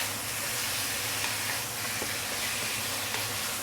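Chicken and ginger slices stir-frying in a pan, a steady close sizzle and hiss with light scraping from stirring, no talking.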